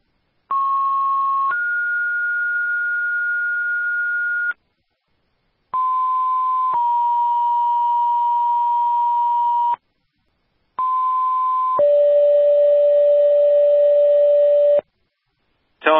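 Three bursts of two-part electronic fire dispatch alert tones, each a short pitch followed by a longer held one, separated by brief silences.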